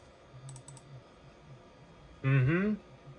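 Keys clatter in soft, scattered clicks on a Windows 95 retro PC while a network card is being installed, faint under low room noise, interrupted by a brief spoken exclamation.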